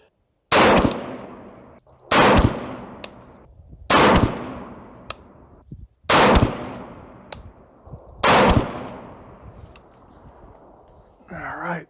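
Five sharp rifle shots from a rifle fitted with a Primary Arms GLX 2x prism scope ring out one by one about every two seconds, each loud crack trailing into a long outdoor echo, followed by a brief rustle at the end.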